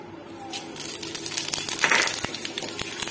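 Whole spices such as dried red chilli, bay leaf, cumin and nigella hitting hot, smoking oil for tempering, giving a quiet hiss that grows into sharp, irregular crackles and pops.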